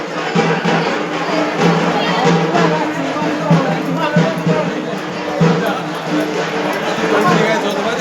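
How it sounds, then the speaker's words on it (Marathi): Dense crowd babble of many voices at Tulja Bhavani temple as devotees wait for darshan, a steady close hubbub with footsteps and scattered calls throughout. "वरी पण बघा गर्दी फुल आहे दर्शनासाठी"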